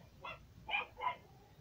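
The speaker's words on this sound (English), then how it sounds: "stupid dogs" Dogs bark three times in quick succession, short yappy bursts at moderate distance over a quiet indoor background, with no talking in between.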